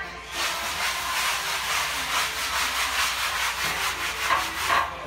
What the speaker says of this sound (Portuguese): Ali é uns panos velhos que a gente usa pra limpar